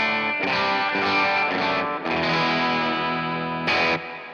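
Electric guitar run through a Quad Cortex amp model with reverb, played as sustained distorted chords in bursts with short gaps, loud and close, no voices.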